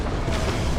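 Plasma cannon shots blasting in Warhammer 40k: Dawn of War 2 during a 3v3 match, a dense, continuous low rumble of explosions with no clear gaps.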